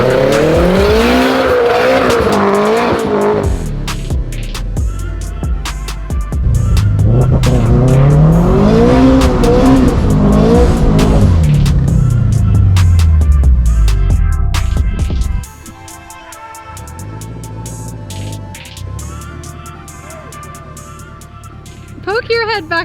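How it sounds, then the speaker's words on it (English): A turbocharged E85 FRS does a burnout: loud revving engine rising and falling in pitch with tire squeal for about fifteen seconds, then quieter idling and mechanical noise, with people talking throughout. "That was a badass burnout."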